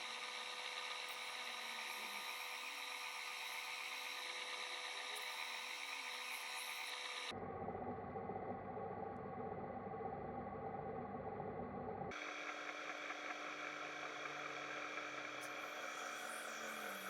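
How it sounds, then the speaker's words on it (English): Rough opal is ground on a 240 grit lapidary wheel, a steady close whirring drone with shifting grinding tones that changes character partway through and then returns, continuous and loud with no talk. "Alright, so we're on a 240 grit wheel for those playing at home."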